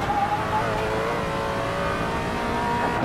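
In the game Assetto Corsa, a Koenigsegg One's engine revs hard and steadily at high pitch while accelerating on the Nürburgring Nordschleife, a loud, continuous drone with no talk.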